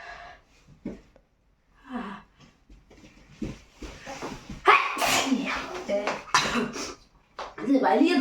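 Several sneezes and coughing bursts come close together during a sneezing challenge at home, mixed with quiet talk and breathy gasps between them, some loud and near.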